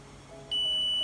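A multimeter set to continuity gives a steady, high-pitched electronic beep as its probes touch a short-circuited spot on an Asus GTX 950 graphics card, sounding abruptly and holding constant over faint room noise.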